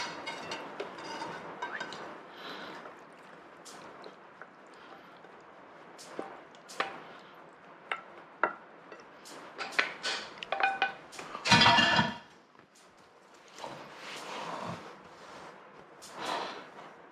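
Pasta alla gricia being moved from a pan into a bowl, metal utensils scraping and clinking against cookware with soft wet slides of the coated pasta and one louder clatter, close and intermittent, with no talking.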